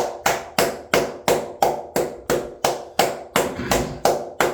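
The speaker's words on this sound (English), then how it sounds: "Round of applause" A Dolphins fan clapping hands in a steady, evenly spaced series of about a dozen sharp, close claps, alone with no talk.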